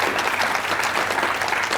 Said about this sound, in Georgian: აპლოდისმენტები ლუკას